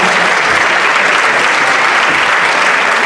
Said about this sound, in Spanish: Un aplauso, vamos a empezar.